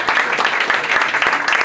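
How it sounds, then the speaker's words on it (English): A crowd at an Albanian-American community gathering gives a brief round of applause for a guest, a short burst of many people clapping at a fairly even, moderate level. "let's give him a round of applause"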